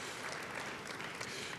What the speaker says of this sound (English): Let's give them a round of applause for them being here tonight.